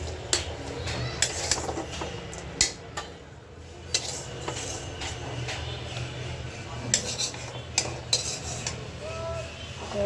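A metal spatula scrapes and clinks against a frying pan while lifting out fried lentil dumplings, irregular sharp taps and scrapes at close range over a faint background hum.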